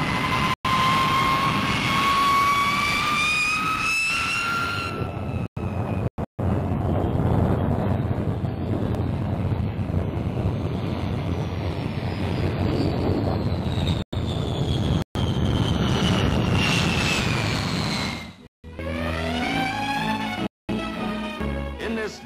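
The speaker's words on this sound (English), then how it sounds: "The RAF's tremendous powerful weapon to come is the Valiant, the new 4-jet bomber" A Vickers Valiant four-jet RAF bomber flies past, a loud continuous jet roar with rising and falling whine that swells and fades, with brief cuts between shots.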